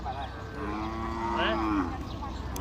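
A single cow gives a drawn-out moo at a cattle market in Maha Sarakham, Thailand, fairly close over a steady background murmur.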